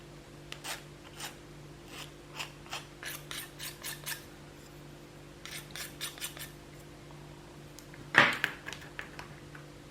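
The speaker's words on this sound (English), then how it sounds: "make sure that it's flat by running a file over the edge just to make sure there's no raised points" Metal file run over the edge of a model mosquito part to flatten it, giving a series of short, close rasping strokes in steady rhythm, followed by a louder single knock near the end.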